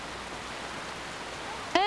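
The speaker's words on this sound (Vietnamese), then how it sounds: "trời còn mưa đó" Steady rain falling at night, a soft continuous hiss at low level with no voices, ending in a brief sharp tonal sound.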